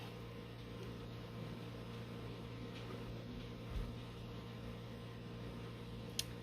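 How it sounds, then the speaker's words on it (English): A humidifier runs with a faint, steady mechanical hum, low drone and soft hiss continuously in the background of an otherwise quiet room. "if you hear noise in the background, it's the humidifier"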